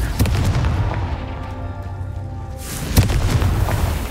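A blasting-spell explosion in the Hogwarts Legacy game, a deep booming burst near the start and another sharp boom about two seconds later over a low rumbling background.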